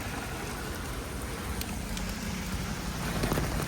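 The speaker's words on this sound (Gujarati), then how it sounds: "અમારે બોડેલીમાં ફૂલ વરસાદ છે" Heavy rain falls in Bodeli as a steady, soft hiss of drops on surfaces, even and unbroken throughout, with no voices.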